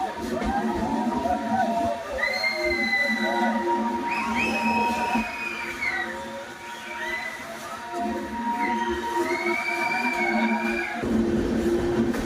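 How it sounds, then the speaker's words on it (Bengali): A steady rumble of a train passing through a tunnel fills the clip, with people talking over it and a few high squealing tones rising above the noise. "এই যে দেখুন আমাদের ট্রেন টানেলের মধ্যে ঢুকে যাচ্ছে।"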